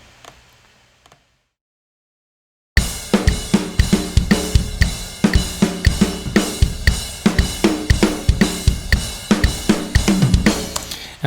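Raw, unedited live studio drum kit recording: after a faint tail and a pause, loud dense hits of kick, snare and cymbals in a steady driving groove, with no voices.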